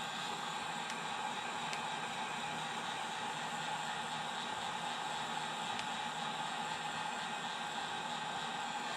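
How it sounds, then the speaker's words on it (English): A heat gun blows a steady, even hiss of hot air across a 1:350 scale Polar Lights TOS Enterprise model to dry its paint, close and constant with no talk. "Coming right back in with my heat gun."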